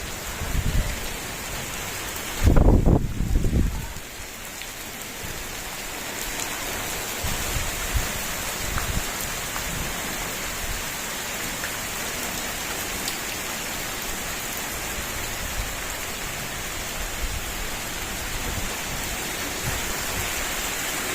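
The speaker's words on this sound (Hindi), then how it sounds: "बारिश माशाल्लाह आहिस्ता आहिस्ता तेज़ हो रही है, ये देखिए।" Steady rain falls on a hot village day, a continuous hiss of drops spread wide, with a brief louder burst of close patter early on before the downpour settles into an even, dense wash.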